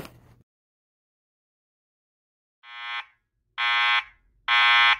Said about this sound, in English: There has been a fire alarm reported in the building.